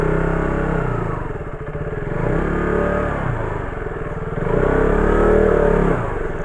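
A 2018 KTM RC 200 motorcycle rides away, its engine revving up and down in several rising and falling surges, loud and close, with no talk over it.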